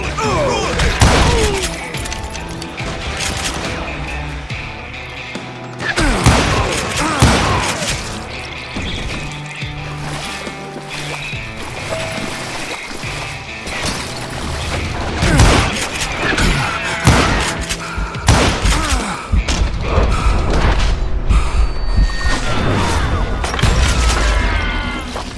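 Gunfire rings out in the Western shooter video game Call of Juarez Gunslinger, loud repeated shots and impacts cracking and booming in bursts over a dense, busy game soundscape for the whole stretch.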